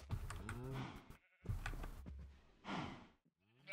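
Sheep in a video game bleat loudly and up close in several wavering, drawn-out calls with short pauses between them, the last cut off abruptly.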